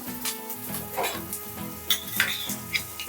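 Golden onions with homemade ginger garlic paste sizzle in a pan for mutton pulao, a close, steady frying hiss broken by a few clinks and scrapes of a spoon stirring against the metal.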